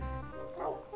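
Dogs in Minecraft 1.13, part of a tamed pack on an island, give a short yipping bark with a whimper-like edge, close and alone.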